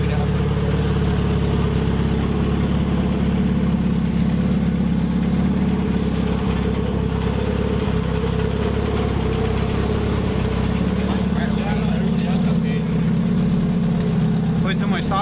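A pump-gas drag car engine runs steadily at the strip, a loud, constant rumbling idle with a few slight rises in revs, under a busy noisy background throughout.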